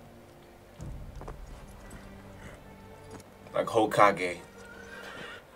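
A black stallion in Ghost of Tsushima whinnies loudly near the end, with a few soft hoof sounds before it and someone talking over the scene.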